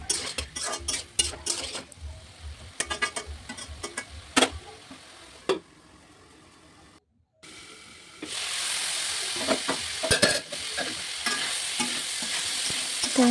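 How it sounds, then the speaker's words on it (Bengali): Vegetable bhaji frying in a pan and being stirred, with repeated scraping, clacking strokes of a utensil over a steady sizzle, a brief hush midway, then louder, denser frying hiss with scattered clinks. "তো দেখতেই পাচ্ছেন নাড়াচাড়া করতেছি।"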